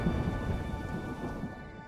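Steady rain pours with a low, rolling rumble of thunder underneath, a continuous stormy wash with no voices, from the video game Halo Infinite.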